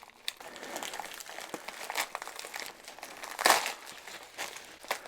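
A plastic Lego parts bag torn open nearby, sustained crinkling and rustling with a sharper rip partway through, no voices.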